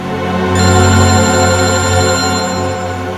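A telephone rings in a tense crime drama scene, a loud electronic bell repeating steadily with sustained tones, close and alone with no talk.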